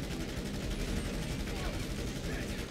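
Rapid video game gunfire during a contract heist shootout, a dense barrage of shots layered over constant game noise with no pause.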